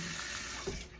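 Water poured steadily into a container for soaking fish before salting, a continuous close splashing fill with a brief gurgle near the end.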